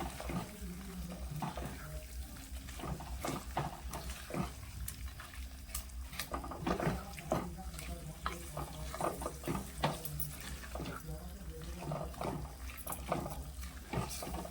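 Ravas fish heads coated in masala sauté in hot oil, giving a dense, continuous sizzle punctuated by frequent scraping and stirring strokes, close up and fairly loud.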